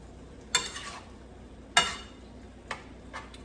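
Beef tips browning in a hot pan on a stove set around 7 or 8, with a few quiet crackles and stirring clicks spaced a second or so apart rather than a steady loud sizzle.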